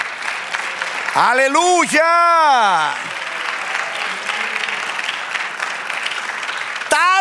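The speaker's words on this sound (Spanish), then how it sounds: "Dale un aplauso al Señor." A church congregation claps for the Lord in steady applause lasting several seconds, under loud joyful shouts and sung exclamations, and then continues as a softer patter of clapping.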